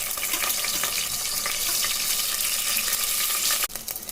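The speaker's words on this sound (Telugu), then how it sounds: "ఆయిల్ బాగా హీట్ ఎక్కిన తర్వాత నేను ముందుగా కడిగి పెట్టుకున్న ఎండు రొయ్యలు ఇందులో వేస్తున్నాను" Washed dried shrimp frying in well-heated oil for a Telugu ridge gourd and dried shrimp curry, giving a steady, dense sizzle that stays loud and even throughout, then cuts off abruptly near the end with no talking.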